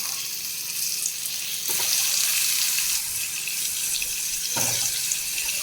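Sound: cauliflower frying in hot oil with turmeric

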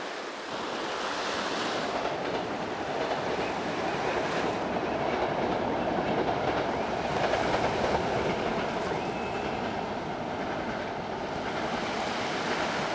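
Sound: train passing along the seaside railway

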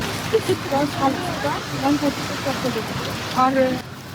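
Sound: rain starting to fall

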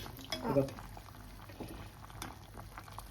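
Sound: fish curry coming to a boil

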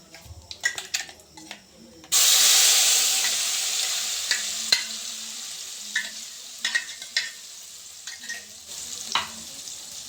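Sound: spices frying in a pan

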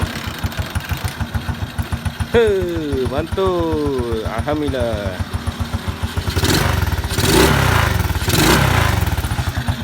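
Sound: Kriss 110 motorcycle engine starting and revving

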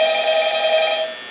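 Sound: phone call ringing in Five Nights at Freddy's video game

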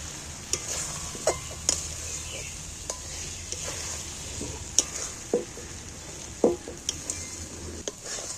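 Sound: stir-frying egg in a pan

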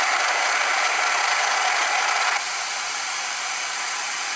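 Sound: hair dryer blowing air

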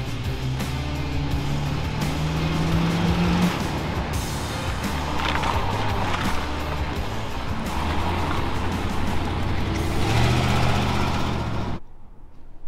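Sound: old Ford tow truck being pushed by another vehicle

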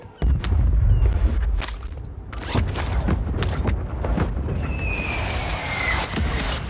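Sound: mortar explosions in a video game

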